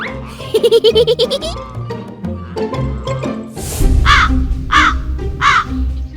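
A crow gives three loud, harsh caws in a row, close and raspy, following a stretch of bouncy music.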